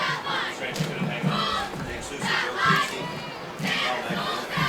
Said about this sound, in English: Another full crowd here at J. Allison Morse Field at Dr. Deering Stadium.